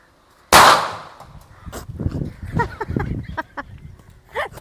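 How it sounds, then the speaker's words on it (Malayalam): A single firecracker bursts with one sharp, loud bang that rings out and fades, followed by people talking and reacting. "പടക്കം പൊട്ടി തറ വീണ് മുട്ട പൊട്ടിയതാണ്ട്"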